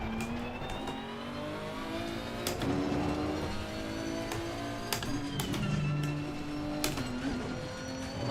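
Race car engine in a racing sim during a 9-hour Kyalami endurance event, a steady drone with rising and falling pitch as gears change, several sharp shift blips punctuating the continuous near, loud engine note.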